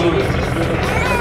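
A military helicopter at the NATO Days air show in Mošnov, 2014, gives a steady, loud rotor and engine drone that fills the whole moment, with voices faintly under it.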